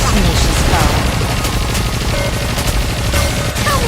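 Aegis cannon firing in the video game Nikke: a dense, loud barrage of rapid booming blasts and crackling impacts that runs continuously under the game's battle audio, with no clear gaps between shots.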